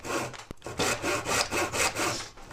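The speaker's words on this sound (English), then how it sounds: "Using a wood rasp, so now it's got like a texture, rough texture to it." Wood rasp scraping across a wooden war club, a run of steady rough strokes with a brief sharper knock partway through, close and fairly loud.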